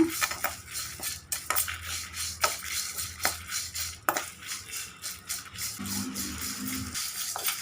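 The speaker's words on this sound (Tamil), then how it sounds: "கருவேப்பிலையை நல்லா ஃப்ரை பண்ணிக்கோங்க." Curry leaves fry and are stirred in a metal pan: repeated clinks and scrapes of a utensil against the pan, irregular and close, over a faint low sizzle.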